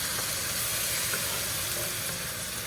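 Sauce for Salisbury steak sizzles in a hot pan with a loud, even, hissing crackle that holds steady and close throughout, with no voices.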